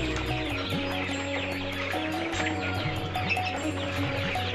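Young chickens packed inside a poultry farm shed give off a constant chorus of overlapping clucks and peeping chirps, with no voices.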